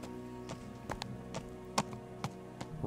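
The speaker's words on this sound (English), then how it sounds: "This is the horse I stole" Horse hooves clip-clop at a slow walking pace in the video game Kingdom Come: Deliverance, distinct thuds spaced unevenly under a steady droning background.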